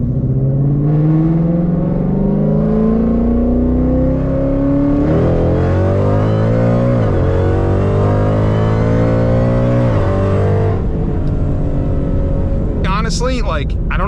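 A Shelby GT500 V8 revs hard under full acceleration, its loud engine note climbing steadily in pitch through the gears, dipping at each shift before rising again, with a brief burst of other sound near the end.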